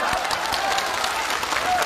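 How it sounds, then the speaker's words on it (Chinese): A brief burst of dense clapping from a small group at a lively comic gathering runs steadily for under two seconds, with voices talking over it. "先给我鼓掌。"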